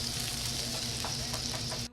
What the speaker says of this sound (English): The meat was sizzling.